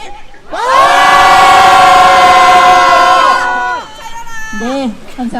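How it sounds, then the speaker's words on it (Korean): Korean protesters outside the US embassy let out a loud, unified shout on cue, a sustained chorus of many voices held for about three seconds before trailing off into scattered cries and murmurs. "함성 외쳐보겠습니다"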